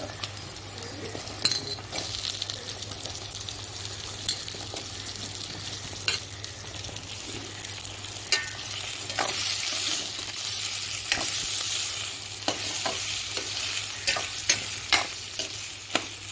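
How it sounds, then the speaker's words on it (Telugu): Capsicum and onions frying for a curry, a steady broad sizzle with scattered sharp clicks and scrapes of stirring throughout. "ఉల్లిపాయ ఇలా వేగింది కదండి ఇప్పుడు మనం క్యాప్సికమ్ వేసాం"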